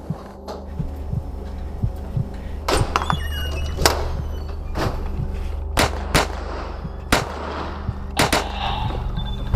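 Gunshots ring out during an active shooter incident, a series of about eight sharp, loud reports spread irregularly over several seconds above a low steady hum, with no voices.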